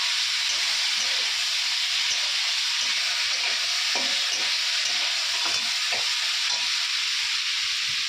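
Crab pours onto lightly fried potatoes and onion in hot oil, giving a loud, continuous close sizzle with scattered crackles and spatters, no talking.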